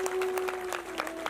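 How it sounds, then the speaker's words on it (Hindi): An audience at a Bhagavat katha gathering in a large tent breaks into loud applause, a dense burst of clapping that lasts about a second with a faint murmur of crowd sound. "एक बार जोरदार ताली बजाएं इनके लिए"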